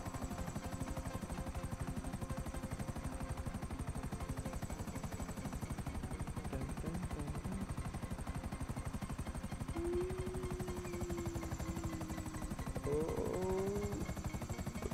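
Helicopter in the GTA 5 video game, a steady rapid rotor chop droning continuously at close range, with a faint low tonal sound surfacing near the end.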